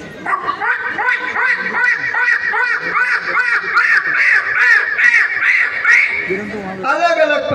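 A voice imitates the harsh screeching cry of a large, fearsome mountain bird in a Kumaoni hill comedy, with a loud, close run of repeated caw-like calls and brief speech near the end.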